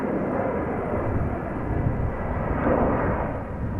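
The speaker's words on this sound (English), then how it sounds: "another heavy took off from center. A330." A 17-year-old KLM Airbus A330-200 taking off from Amsterdam Schiphol, a heavy jet heard from a distance as a dense, steady low roar that swells slightly near the end.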